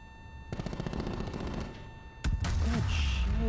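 Automatic gunfire from long-range guns in a 2v2 Search and Destroy shooter match, a rapid burst of rattling shots followed by a sharp louder volley, with a faint voice underneath.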